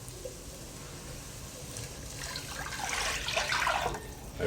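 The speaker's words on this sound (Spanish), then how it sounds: "Acá es momento de agregarle el agua." Water pours into a pot of fava bean soup over sautéed, lightly caramelized onion, a steady splashing wash that swells louder toward the end, with no talking.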